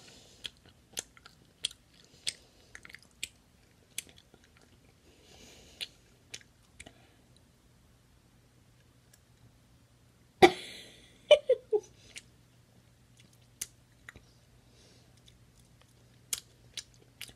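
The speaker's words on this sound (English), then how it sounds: "I'm gonna chew that." Trolli sour egg candy and gum being chewed gives sparse wet clicks and smacks scattered over many seconds, close but quiet, with one louder burst of mouth noise midway.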